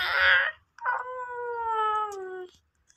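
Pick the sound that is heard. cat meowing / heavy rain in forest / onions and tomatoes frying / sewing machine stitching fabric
cat meowing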